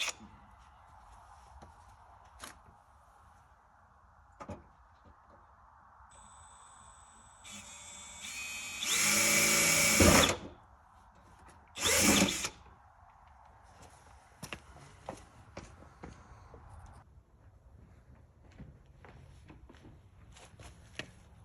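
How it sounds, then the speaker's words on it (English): A drill bores a small pilot hole in the hood of a third-generation Mega Cab Cummins truck, with a loud grinding burst of about a second and a second shorter burst soon after, amid quiet clicks and handling noises in a garage. "we'll drill a really small pilot hole on this side, just so we know where center is"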